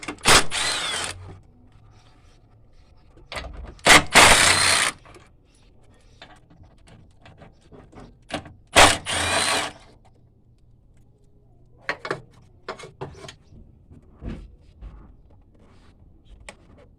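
Wrench work on bracket bolts under the hood of a Mitsubishi Galant brings irregular bursts of ratcheting and metallic clicks and scrapes, separated by quiet gaps, with no talk.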